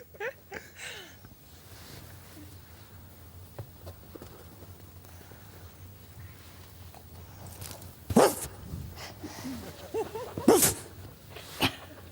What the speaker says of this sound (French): C'est Shakespeare, le chien de Floride